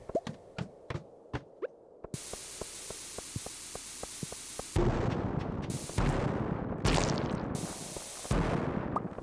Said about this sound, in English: I kind of walked into my own explosion there